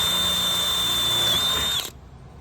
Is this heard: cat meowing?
no